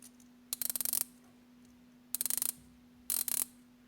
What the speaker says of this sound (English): Bezel is 120 click unidirectional dive time bezel with a aluminium bezel insert and a loom pip.